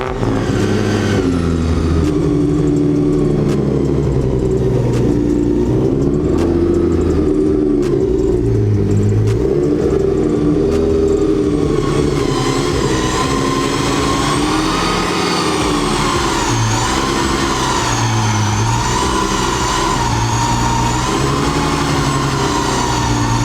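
A supercharged Nissan 350Z engine runs steadily and loud throughout as the car is turned around, a deep rumbling idle with light revs and shifting tone as it maneuvers, with no talking.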